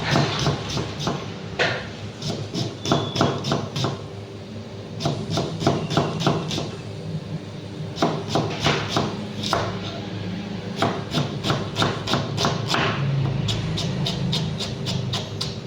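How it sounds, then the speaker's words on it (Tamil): A knife chops vegetables finely on a board for Kerala-style kingfish head curry, sharp rapid strikes in fast runs with brief pauses, loud and close, with faint background noise. "இதையும் குட்டி குட்டியாக ஃபைன் சாப் பண்ணிப்போம்."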